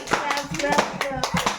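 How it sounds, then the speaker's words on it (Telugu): A group of people playing a handkerchief game in a room claps their hands together in a few quick, close bursts, mixed with voices talking over them. "క్లాప్స్ కొట్టాలి అందరు కలిసి"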